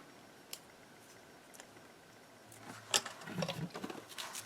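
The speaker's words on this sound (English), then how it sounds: "let me pop a hole through the chipboard" Hole punched through chipboard for a paper-craft journal and display box: faint scattered taps first, then a closer cluster of crunching, squeaky clicks as the tool pushes through, quiet overall, no talking.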